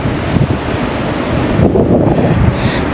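Ocean waves and strong wind roar where sand dunes meet the Pacific in Fiji, a loud, unbroken wash of surf and gusting air buffeting the microphone.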